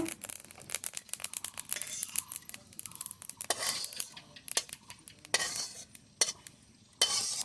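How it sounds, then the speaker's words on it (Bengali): Fenugreek seeds are dry-roasted in a hot dry pan for mango pickle, with a spoon stirring and scraping in quick irregular bursts, sharp rattling and light crackling close by. "মেথি ভেজে নেব"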